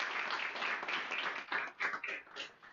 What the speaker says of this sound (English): So we give Gianna a round of applause.